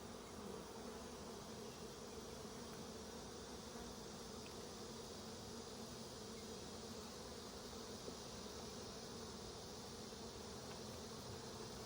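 Bees fan inside stacked hive boxes during a honey harvest, making a steady, dense buzzing drone that holds evenly throughout at a low level with no voices.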